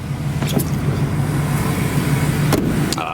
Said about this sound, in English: Listen to that 6-liter rumble.